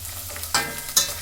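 Curry leaves drop into hot oil in a pan, bursting into two sharp, loud sizzling crackles close by against a faint steady hiss.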